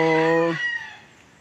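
A rooster crows loudly and close by, a single drawn-out call that fades into a quiet farmyard.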